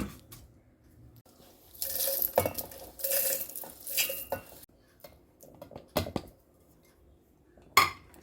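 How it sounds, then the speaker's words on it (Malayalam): Roasted garam masala spices scraped and tipped from a pan into another dish, with close, uneven bursts of metal clatter, scraping and clinking separated by short quiet gaps. "നമ്മളിത് വേറൊരു പാത്രത്തിലേക്ക് മാറ്റി വയ്ക്കുകയാണ്."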